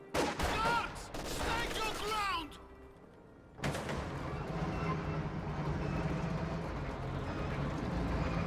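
Anti-tank guns fire on T-34 tanks in a wartime strategy game, with sharp bursts of shots and battle noise at first, a brief lull, then a steady rumble of distant combat.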